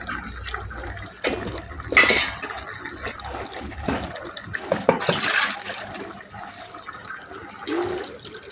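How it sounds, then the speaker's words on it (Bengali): Water poured into a pot of boiled bottle gourd, heard as a few splashing, gurgling bursts with clinks of pots and utensils in between, close and moderately loud, no voices. "লাউ সিদ্ধ হয়ে গেছে, এখন পানি দিয়ে দিলাম।"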